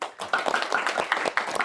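An audience at a panel discussion applauds a guest, with a short burst of fairly close, dense hand clapping and irregular sharp claps standing out.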